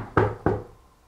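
Two sharp knocks on wood sound about a third of a second apart in a reportedly haunted house, each thud close and resonant before fading into quiet.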